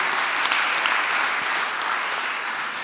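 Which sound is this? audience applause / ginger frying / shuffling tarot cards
audience applause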